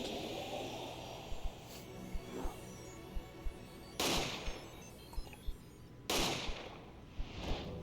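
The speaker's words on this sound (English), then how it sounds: "Dueling pistols." Dueling pistols fire in Apollo Justice: Ace Attorney, sharp loud cracks at about four and six seconds plus smaller pops, over a steady game music bed with no talking.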